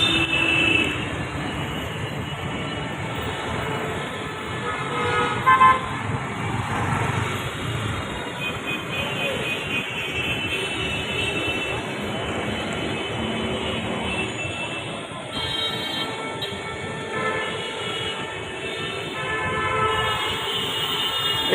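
Trains move through Dakshineswar railway station near Kolkata with a continuous, moderately loud rumble of wheels on track and occasional squeals and clanks heard from a nearby platform.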